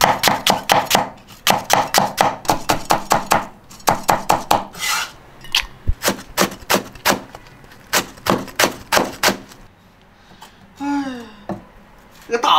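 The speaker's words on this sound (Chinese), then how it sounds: "切点大葱，切点姜末哈。" A knife chops scallion and minces ginger on a board in quick, sharp, close runs of strikes, with brief pauses between bursts and a voice talking near the end.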